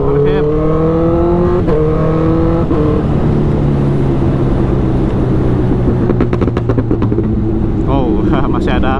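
A Honda CBR1000 motorcycle revs loudly with sustained engine drone and rising pitch, with a few sharp exhaust popcorn backfire crackles near the end, while someone talks over it.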